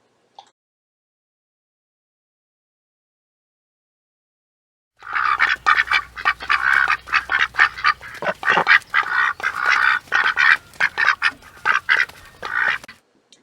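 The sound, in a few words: ducks quacking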